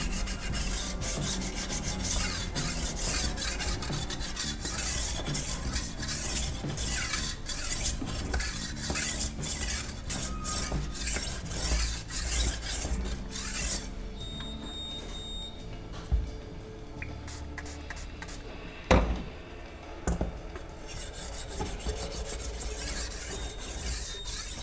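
A steel knife blade rasps steadily across a coarse sharpening stone and then a finer grit, with continuous close scraping strokes that grow slightly quieter and more spaced near the end.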